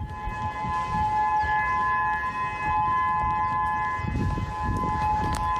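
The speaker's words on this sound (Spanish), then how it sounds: "Así como Esta Japón, fue la sirena de Hawái." A civil defense siren sounds a tsunami alert in Hawaii, a steady sustained wail heard at a distance over low rumbling background noise.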